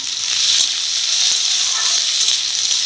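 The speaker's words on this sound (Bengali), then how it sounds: "তেল গরম হয়ে গেছে, 5 ফোড়ন দিয়ে দিব, শুকনো লঙ্কা, তেজপাতা, কুচানো পেঁয়াজ, কাঁচা লঙ্কা।" Five-spice mix, dried red chillies, bay leaf, chopped onion and green chillies hitting hot oil in a home kitchen, producing a steady, bright, close sizzling hiss that continues evenly throughout without pause.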